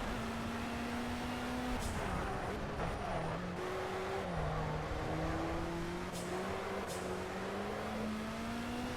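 A race car engine from the racing game Project Cars drones steadily and revs up through the gears, with a few sharp shift clicks, continuous and fairly quiet.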